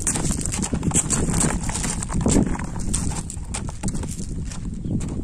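Hooves of a horse being ridden through turns thud and clop in a quick, uneven rhythm up close, over a constant rough outdoor rumble.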